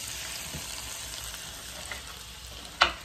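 Tomatoes frying in a pan give a steady, close sizzling hiss throughout, with a sharp utensil clack near the end.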